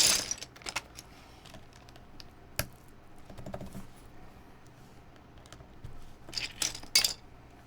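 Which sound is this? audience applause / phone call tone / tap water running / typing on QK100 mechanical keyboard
typing on QK100 mechanical keyboard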